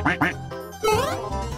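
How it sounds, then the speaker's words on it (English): Quacks from a toy or cartoon duck sound in two short bursts, followed by a longer rising squawky call, fairly loud and close with bright, nasal tones. "This is a duck."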